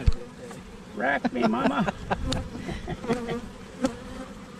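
Honeybees buzz around an open hive during spring housekeeping, a steady close drone under a person speaking softly.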